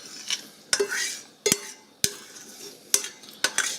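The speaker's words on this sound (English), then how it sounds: "I'm gonna transfer the meat into this nice casserole dish" Stewed curried lamb is moved into a casserole dish. A spoon knocks and clinks against the cookware in several sharp, close hits, with soft scraping and wet shuffling between them.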